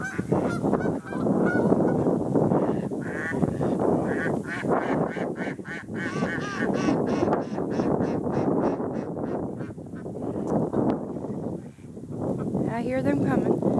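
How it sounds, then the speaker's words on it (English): A flock of geese honks loudly and continuously nearby, their calls overlapping, with people's voices mixed in among the honking. "Hi there, little geese."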